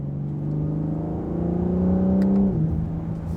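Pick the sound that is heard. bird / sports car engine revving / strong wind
sports car engine revving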